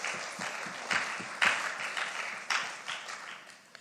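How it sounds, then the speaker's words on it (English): An audience gives the local registrars a round of applause at the release of the CXC examination results, a steady, fairly faint wash of many hands clapping. "Go ahead and give them a round of applause."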